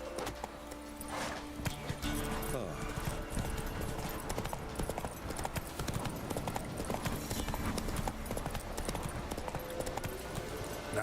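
Roach, a horse in the video game The Witcher 3, trots along in a steady, continuous clip-clop of hoofbeats, mixed with game ambience and brief background voices.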